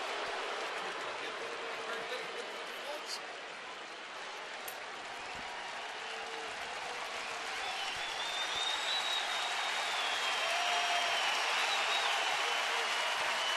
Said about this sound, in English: now this crowd is in full throat